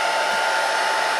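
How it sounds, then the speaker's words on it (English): A blow dryer on its cold setting dries a lace wig, giving a loud, steady, close whooshing roar that holds constant throughout with no talking. "Then you get your blow dryer, and some people don't know that you're not supposed to blow dry this hot or warm"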